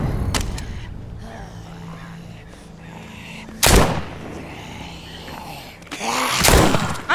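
Gunshots in the zombie video game The Walking Dead: Saints & Sinners, a few loud, sharp blasts spaced seconds apart over a low ambient background.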